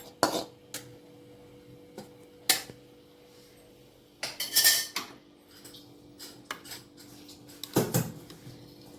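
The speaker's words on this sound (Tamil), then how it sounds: "இப்போ இது வேறு பாத்திரத்துக்கு முட்டை குழம்பு மாற்றிக்கலாம்" Egg curry is ladled into another pot: sharp metal clinks and scrapes of utensils against cookware come in scattered bursts with quiet gaps between.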